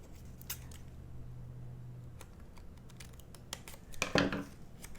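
Scissors snipping paper while a vintage Christmas card is made, a handful of sharp close clicks and cuts with a louder rustling snip near the end, no talk.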